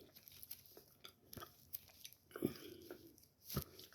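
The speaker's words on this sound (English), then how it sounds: "Take my time and chew it up." A soft chewable supplement is chewed slowly up close: quiet, irregular crunching and biting sounds spread through a hushed morning routine, with occasional sharper bites.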